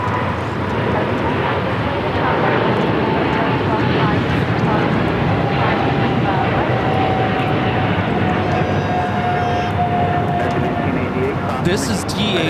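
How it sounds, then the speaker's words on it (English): A Boeing 777 freighter jet taking off at LAX, a loud continuous engine roar with a rising whine that holds steady and close throughout, while a voice talks over it. "This is DHL operated by Coletta at flight 230 taking off to Seoul on the 777 freighter."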